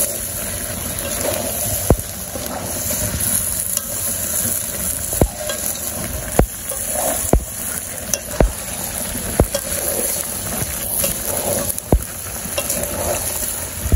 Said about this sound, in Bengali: আমার মাংসটা কষানো হয়ে গেছে আমি ঝোল দিয়ে দেবো